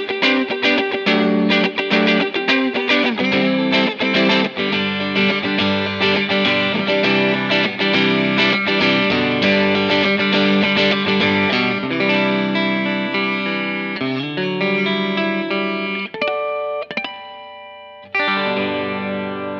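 An electric guitar plays through a Vox Night Train NT15H-G2 head on the Bright channel with the Dark selector engaged, giving loud, sustained distorted chords that ring steadily before thinning out with short gaps near the end.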